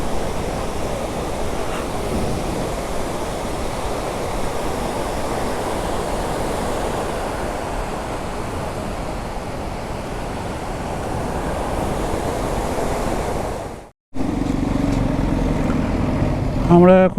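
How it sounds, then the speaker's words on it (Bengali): A roadside waterfall in North Bengal rushes in a dense, steady roar close by, loud and broadband for most of the clip before a brief cut, then the noisy scene resumes. "এখানে একটা বেশ সুন্দর ঝর্ণা রয়েছে"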